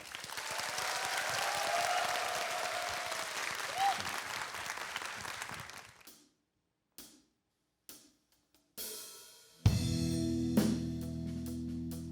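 An audience claps steadily for several seconds after an indie singer's set at a Korean broadcast concert, then the applause fades into silence before faint instrument sounds and a few isolated taps follow.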